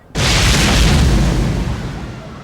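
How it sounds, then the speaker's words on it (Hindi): A loud explosion erupts suddenly after a brief quiet, a deep booming blast whose rumble sustains and slowly decays over the following two seconds, heard alone. "उसे एक जोरदार धमाके की आवाज सुनाई दी"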